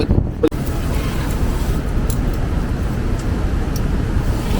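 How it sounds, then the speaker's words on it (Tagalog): Steady, loud wind rumbling and buffeting the microphone, a continuous low roar with a brief knock near the start. "napakalakas ng hangin, halos liparin na nga kami"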